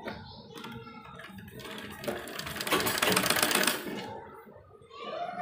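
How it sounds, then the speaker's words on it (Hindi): Sewing machine stitching along the folded edge of a sleeve on a readymade kurti, a fast, rattling needle run that starts in short bursts then runs steadily louder before stopping, close and without talk. "थोड़ा थोड़ा फोल्ड करते हुए सिलाई लगाएंगे"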